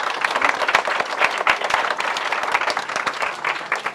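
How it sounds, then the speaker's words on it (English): A panel audience in a warm room gives a round of applause, lively close clapping with distinct sharp hand claps standing out from a steady crowd wash. "Round of applause."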